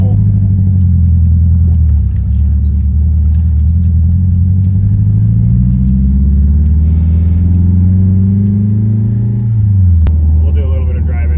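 A turbocharged Acura TSX runs while driving, a loud, steady low engine drone whose pitch slowly climbs and then drops back as the car moves, with a voice talking over it.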